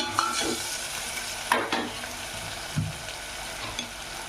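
Green chili pieces frying in a pan for carrot rice, a soft steady sizzle with a few scraping stirs of a spoon against the pan.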